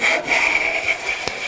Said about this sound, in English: Now we're getting some light shavings.